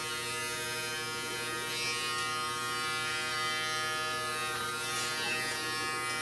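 Dremel rotary tool grinding a dog's nails, a steady, fairly quiet high-pitched motor whine that hums on without a break, with slight shifts in pitch as it touches the nail.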